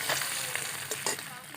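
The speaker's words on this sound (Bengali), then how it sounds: "আমি তেলটা গরম হয়ে যাওয়ার পর ডিমগুলো তেলের মধ্যে দিয়ে দিলাম" Eggs frying in hot mustard oil sizzle densely and continuously, with brief spits and pops rising above the hiss.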